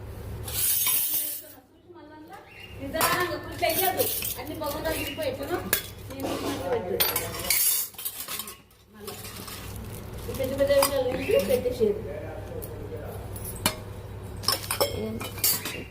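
Tiffin plates clatter and clink as they are handled and stacked, with repeated metallic knocks and scrapes up close while people talk over the noise.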